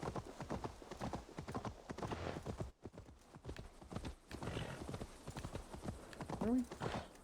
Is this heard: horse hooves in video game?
yes